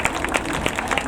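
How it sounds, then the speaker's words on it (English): Audience clapping at a high school summer band camp celebration, a short loud burst of many hands with brief cheering. "Round of applause."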